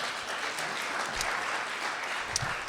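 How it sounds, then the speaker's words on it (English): A small audience at a radio players' event applauds briefly, a steady patter of hand clapping at moderate level, with no talk over it. "so a round of applause for her."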